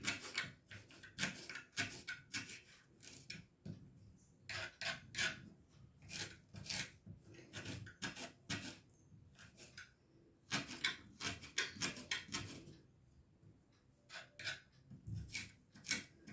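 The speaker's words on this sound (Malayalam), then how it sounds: "ഇതേമാതിരി ചെറുതാക്കി കട്ട് ചെയ്യും." Mango being cut into small pieces with a knife for Kerala-style pickle, giving repeated short rasping chops in bursts, close and fairly quiet, with pauses between runs and no talking.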